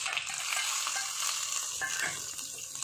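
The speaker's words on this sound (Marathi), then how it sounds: "तेल गरम झाल्यावर त्यात आपल्याला मोहरी टाकायची" Mustard seeds sizzle in hot oil while rava dhokla tempering is made, a bright steady crackling hiss with small pops, close and fairly soft, with no voices.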